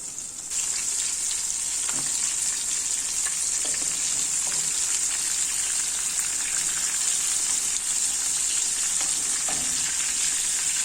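Sardines stuffed with chermoula fry in a pan, giving a loud, steady, close sizzle with a bright hiss and occasional soft spatters and knocks, without talk.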